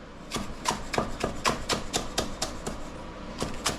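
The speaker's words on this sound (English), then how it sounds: "cut them into little slivers like that" A knife chops ingredients into thin slivers on a cutting board for a mu shu pork dish, giving a steady series of about a dozen crisp, close taps with no talking.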